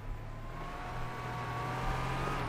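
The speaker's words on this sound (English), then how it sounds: "Listen to that engine purr." Warthog vehicle engine in Halo Wars 2, a steady low motor drone with a faint higher whine, rolling continuously at moderate distance without any voices.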